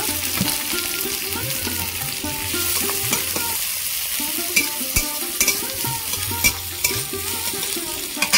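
Chopped onion and chilli fry with whole cumin, cinnamon and cloves in oil, a loud steady sizzle broken by repeated stirring scrapes and sharp spoon clacks against the pan.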